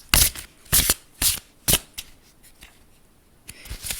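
Tarot cards riffle and shuffle in several short crisp bursts close by, with quieter pauses between them.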